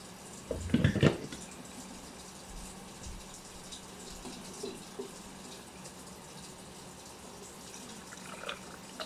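Decaf coffee pours into a cup as a soft, continuous liquid trickle, close and quiet throughout, with a brief louder clatter near the start.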